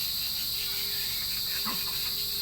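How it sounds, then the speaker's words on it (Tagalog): Crickets chirp continuously in a dense, high-pitched drone, steady and fairly loud with no pauses. "ang nakakabinging huni ng kuliglig"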